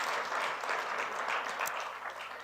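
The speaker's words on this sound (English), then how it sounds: "And we shall keep on clapping hands for that" An audience claps at a live MEC interactive session with the LGBTQI+ society, a sustained, fairly loud wash of hand claps with no voices over it.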